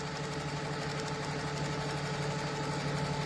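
A sewing machine stitches tiny free-motion quilting stitches across whole-cloth fabric, a quiet, even mechanical hum with a fast, steady needle patter and no pauses.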